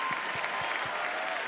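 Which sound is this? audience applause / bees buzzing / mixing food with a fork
audience applause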